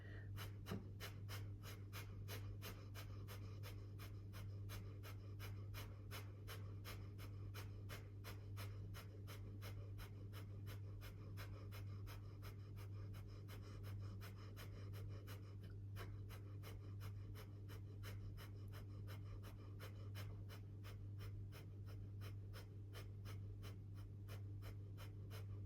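Rapid kundalini yoga breath of fire: quick, evenly spaced exhales pulse about twice a second without a break, fairly quiet over a steady low hum, with no talking.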